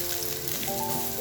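Ground meat and onion fry in oil in a pan for a Bicol Express dish, a steady close sizzle throughout.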